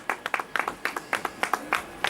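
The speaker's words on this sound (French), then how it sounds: "En tout cas, on applaudit." A small crowd claps at a children's race in Gouesnac'h, with brisk, rhythmic hand claps in quick succession, close and moderately loud.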